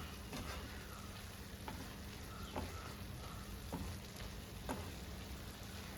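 Jackfruit seeds and prawns drying out in a hot pan give a faint, continuous sizzle, broken every second or so by light spatula scrapes and taps.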